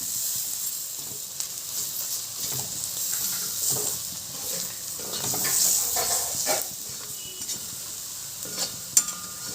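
Intestine curry fries in a pan as curry leaves are added, giving a steady crackling sizzle with scattered sharper pops and light stirring scrapes, close and moderately loud with no talk.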